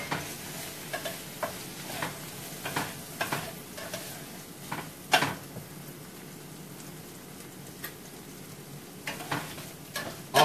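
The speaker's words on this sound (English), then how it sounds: "And we're gonna saute it." Food sautés in a pan with a soft, continuous sizzle while a spatula stirs and scrapes, producing irregular clicks and knocks every second or so. It is fairly quiet and close, with no talking.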